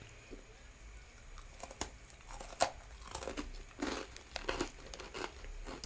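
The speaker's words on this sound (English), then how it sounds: "They have a slightly soft crunch" Someone chews sweet Japanese snack bites with a slightly soft crunch, giving close crunches and crinkles at an irregular pace over low room noise.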